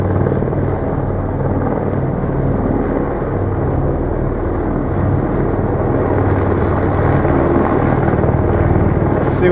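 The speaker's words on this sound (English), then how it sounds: "he's having trouble stabilizing the helicopter" A helicopter hovers close by in wind, its rotor producing a loud, continuous throbbing drone that holds steady throughout.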